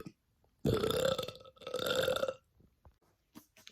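Two long, loud, deep belches follow one another closely, a brief pause between them, with faint breathy sounds afterward.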